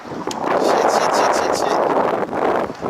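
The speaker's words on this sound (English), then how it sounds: "It's windy out here." Steady wind buffets an outdoor microphone in a continuous rushing roar with a few brief dips, and no other sound stands out.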